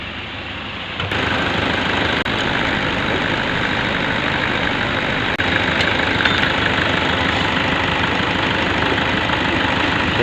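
A car engine idles with the battery negative terminal disconnected, producing a loud, steady rumble with a light knocking texture. The sound rises slightly after the first second, then holds constant, with a few faint clicks.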